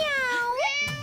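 A cat gives a single clear, rising meow of about a second in a Tamil TV drama scene, close and distinct with no talking over it.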